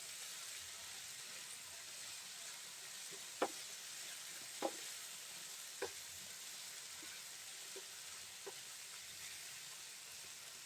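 Mixed vegetables, bitter gourd and spiny gourd, frying in a pan with a little turmeric give a steady soft sizzle, broken by a few sharp scrapes as a spoon stirs them.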